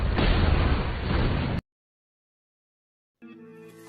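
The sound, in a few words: car bomb explosion in a film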